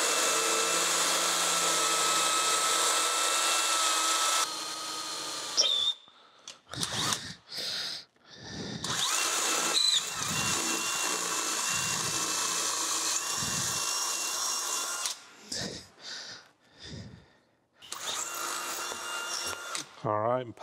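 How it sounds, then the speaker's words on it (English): A power drill whines in long continuous runs drilling a 1/4-inch pilot hole in metal, then cuts off and restarts in shorter bursts, with a voice talking in the gaps. "I'm gonna start with a 1/4-inch pilot hole."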